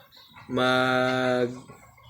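A single drawn-out, nasal squawk from a chicken, loud and close, lasting about a second, with quiet surroundings before and after.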